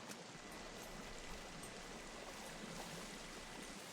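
Water flows at a forest lake in the survival game Sons of the Forest, a faint, even rushing hiss that stays constant throughout with no other sounds.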